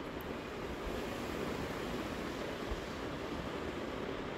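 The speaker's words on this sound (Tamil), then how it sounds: "இப்போ நல்லா கொதித்து வருது." Chickpea curry bubbling at a steady boil in a pot, a continuous dense simmering hiss with no voices over it.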